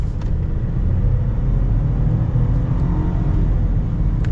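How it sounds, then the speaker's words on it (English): A 2021 Ford F-150 pickup with the 2.7-litre EcoBoost engine accelerates hard, its loud, steady engine roar and rumble filling the whole stretch without a break and with no talking. "Let's get an acceleration here with this F-150."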